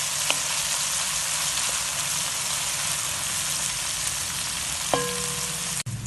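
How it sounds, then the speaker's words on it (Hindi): Green garlic and onion frying in a pan, a steady dense sizzle throughout, close and even, with a couple of faint clicks and no talk. "इसे भी हम 1 मिनट फ्राई कर लेंगे।"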